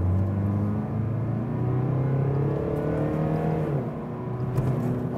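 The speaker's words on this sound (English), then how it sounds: "Let's go to the sports mode, and let's accelerate just like from 20 on" A rear-wheel-drive 2019–2020 facelift Mercedes V-Class van accelerates hard in sports mode from about 20 km/h, its engine note rising steadily through the gears with a smooth, continuous drone heard from inside the cabin.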